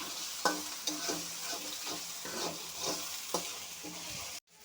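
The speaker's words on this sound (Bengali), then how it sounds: "দিয়ে দেব আদা বাটা। ভালো করে কষিয়ে নেব" Ginger paste stirred and frying in a pan for a home-style egg and baby potato curry, a steady sizzle broken by repeated spoon scrapes roughly every half second, close and clear, ending abruptly in silence.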